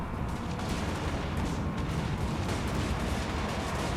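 Dwarf troops firing a ranged volley in Total War Warhammer, a dense continuous rumble of massed gunfire and blasts that holds steady throughout.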